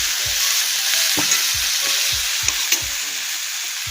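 Onions and crushed green chilli frying for yam cutlets, with a loud, continuous hiss of oil broken by repeated rhythmic stirring scrapes and taps against the pan, close and alone.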